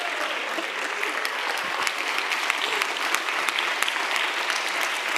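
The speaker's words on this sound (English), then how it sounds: "Applause, people!" Dense, continuous applause from an audience at a live climate justice dialogue event, a loud, steady wash of many hands clapping together throughout.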